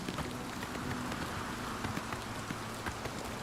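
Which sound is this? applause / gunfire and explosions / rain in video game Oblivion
rain in video game Oblivion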